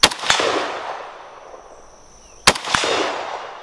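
Two loud, close rifle gunshots sound about two and a half seconds apart, each a sharp crack followed by a long echoing outdoor decay.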